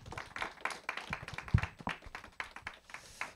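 Applause from an audience at a morning book talk, a run of dense, fairly close hand claps lasting the whole stretch with no voices over it.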